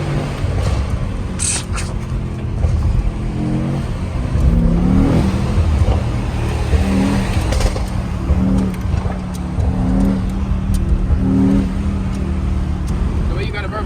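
A Mercedes-AMG GT63S rumbles loudly through a tunnel on a late-night drive, its engine swelling and falling with a few sharp pops and crackling burbles over constant road roar.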